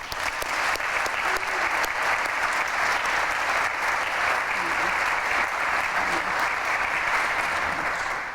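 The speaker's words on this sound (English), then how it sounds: "Let's have a round of applause for Angela and Shelley for their well-deserved awards." Steady, full audience applause at a diversity awards ceremony, sustained even clapping from a large crowd lasting several seconds, with faint voices beneath.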